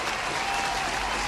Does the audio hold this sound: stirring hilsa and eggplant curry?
no